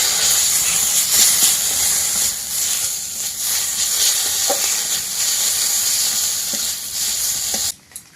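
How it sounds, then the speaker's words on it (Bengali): Ginger-cumin paste hits hot oil in a pan and sizzles loudly, a dense, steady steamy hiss with faint stirring knocks that holds for about eight seconds and then cuts off abruptly. "এবার আদা জিরে বাটাটা দিয়ে দেবো"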